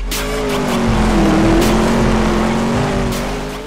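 A two-seater sprint car races past with a loud, high-revving engine roar that swells and fades over a few seconds.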